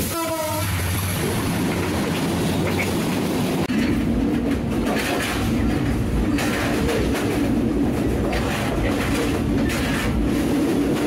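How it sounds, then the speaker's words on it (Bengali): The Rangpur Express rumbles past at close range on a Bangladeshi railway line, a loud continuous roar of wheels and carriages that opens with a horn blast and holds steady throughout. "আসছে রংপুর এক্সপ্রেস"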